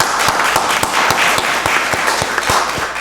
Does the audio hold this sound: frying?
no